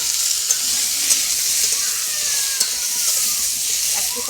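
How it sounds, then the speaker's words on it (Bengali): Taro roots (kochur mukhi) frying in a little hot oil in a home kitchen, a loud continuous close sizzle with occasional scrapes and knocks as they are stirred. "যে এবার কচুরমুখি দেবো, হালকা একটু তেল দিছি, ওরা খুব তেতে গেছে"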